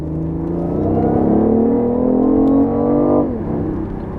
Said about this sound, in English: once you get out and hammer it, you'll hear the engine start up